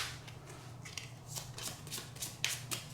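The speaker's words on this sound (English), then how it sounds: "Give it another shuffle." Tiny Towns resource cards being shuffled by hand, a close, quiet run of soft riffling bursts and paper flutters coming in quick succession.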